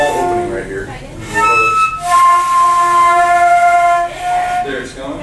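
A camp flute plays a high note, blown faster through a small opening, which comes out as a thin, wavering tone held for about two seconds. Spoken instruction comes before and after the note.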